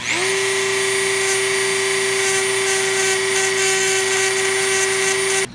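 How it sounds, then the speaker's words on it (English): A loud power sander whines at a constant high pitch, steady and close, grinding continuously on a metal pedal assembly before cutting off abruptly at the end. "we're going to sand this"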